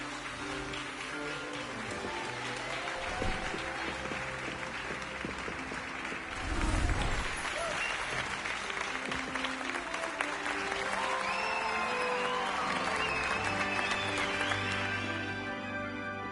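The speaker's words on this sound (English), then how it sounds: "I love how even the Gryffindors are clapping." A theater audience claps and applauds at length, a dense, sustained patter of many hands with a louder swell partway through, while some voices and cheers mix in.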